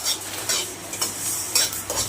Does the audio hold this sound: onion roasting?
yes